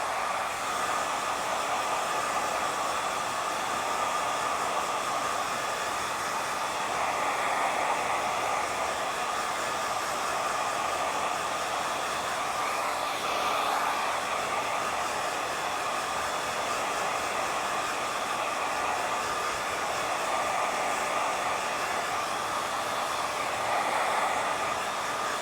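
A hair dryer fitted with a nozzle blows steadily on hair, a loud, continuous airy roar that holds an even level throughout with no talking.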